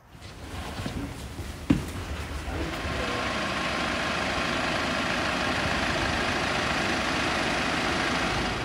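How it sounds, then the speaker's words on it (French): A 620 tractor engine runs steadily at idle in a potato field in Beauce during harvest, a low continuous rumble that follows a brief knock and holds at an even level throughout. "je peux tester ce tracteur 620 que j'avais vu notamment sur la vidéo de Loï"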